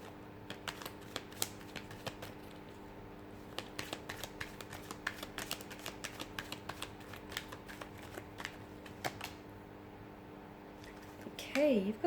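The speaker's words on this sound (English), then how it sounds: "we'll give the cards a shuffle" Tarot cards shuffled by hand in a quiet room, a run of soft crisp riffles and taps spread across the whole stretch, close and fairly quiet, with a brief rising tone near the end.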